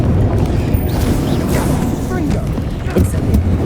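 Confringo blasting spell going off in Hogwarts Legacy, a loud dense burst of low rumbling booms and crackling impacts layered over busy game sound effects and music, with a spoken voice calling out spell names.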